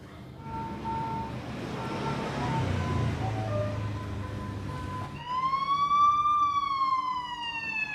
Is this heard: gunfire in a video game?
no